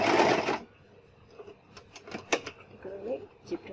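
Sewing machine stitching a zipper onto a cushion cover, a brief burst of fast needle clatter at the start followed by quieter clicks and handling noises.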